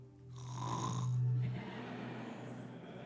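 A preacher imitates loud snoring during a church service, a drawn-out nasal rumble that swells and fades once over about three seconds, with no other talk over it.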